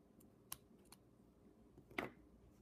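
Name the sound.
scissors snipping yarn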